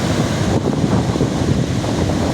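Rough sea at Achara beach near Malvan, Konkan, with large waves churning in a steady, loud wash of surf blended with strong wind noise on the microphone, no one speaking.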